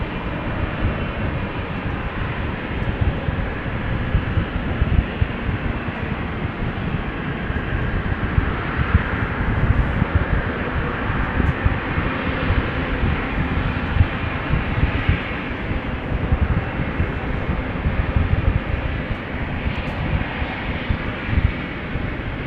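A Boeing 777-300 bound for Johannesburg at Amsterdam Schiphol Airport gives off a loud, steady jet engine roar with broadband rumble that holds constant throughout, heard at some distance with no voices.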